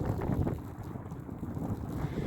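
Gusty wind buffets the microphone with a low rumble, while lake waves faintly lap and slosh underneath at a pike fishing spot, continuous and fairly close.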